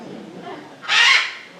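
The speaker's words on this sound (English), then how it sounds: "Pretty bird." A single honking bird call rings out loud and close for about half a second, rising sharply out of quieter background noise.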